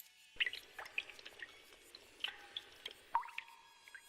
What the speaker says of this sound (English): a very loud water drop.